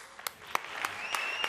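Applause from an audience at a music award ceremony in Teruel rises for a prize being collected, heard as a short burst of scattered clapping at moderate distance.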